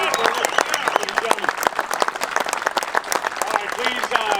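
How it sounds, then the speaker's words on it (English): A crowd applauds members called forward at a formal ceremony, steady dense clapping filling the whole stretch while a voice speaks over it. "Let's give these members a great round of applause."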